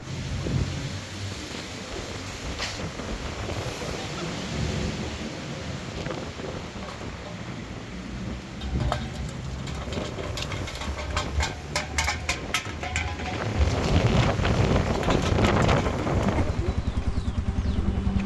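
Strong Patagonian wind roars steadily around a rider on a 125 cc motorcycle near El Chaltén, a broad gusting rush that swells louder toward the end, with no talk over it.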